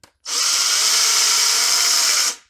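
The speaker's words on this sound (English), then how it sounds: "let's drill the hardware holes." Power drill boring hardware holes into a handmade wooden lipless crankbait, one loud, steady high-pitched whine lasting about two seconds, starting and stopping abruptly, near and alone.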